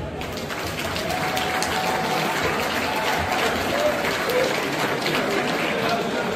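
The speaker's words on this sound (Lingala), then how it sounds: "De nouveau, vous pouvez les applaudir." Audience applause at a Congolese family gathering, a dense, steady wash of clapping from many hands that swells slightly and holds without a break.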